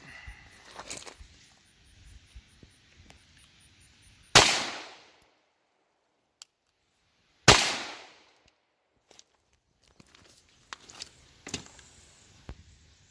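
Two sharp, loud 9mm pistol shots crack into ballistic gel a few seconds apart, each one decaying quickly into near silence. Faint handling clicks and light knocks come before and after.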